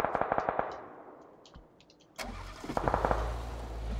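A car engine starting in PUBG: a few gunshots crackle first, then the engine turns over with a sudden rumble and revs into a steady mid-pitched idle, close and loud.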